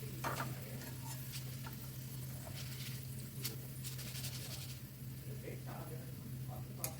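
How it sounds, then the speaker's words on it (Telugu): Chana dal frying in oil in a village-style kitchen sizzles steadily, with light stirring clicks and scraping throughout. A constant low hum runs underneath. "నేను తీసుకున్న గ్లాస్ పప్పుకి 3 దఫాలు వేయించానండి, అంటే కొద్దిగా వేస్తూ వేయించాలన్నమాట."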